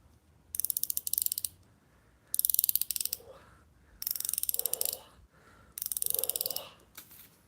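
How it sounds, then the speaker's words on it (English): A Husky ratcheting wrench clicks in four quick bursts of rapid ratchet ticks, each about a second long with short pauses between, close and clear against a quiet background. "Their wrenches aren't like king, but they're ratcheting wrenches."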